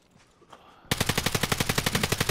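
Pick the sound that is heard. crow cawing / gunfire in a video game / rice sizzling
gunfire in a video game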